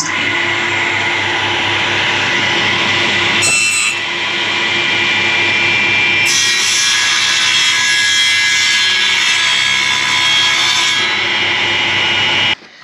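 A wood saw cuts through aluminium angle, a loud, steady grinding rasp that drops out briefly near the start, resumes with a harsher bite and stops abruptly at the end.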